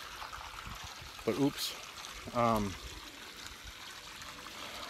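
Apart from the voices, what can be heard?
water overflowing from a trough onto the ground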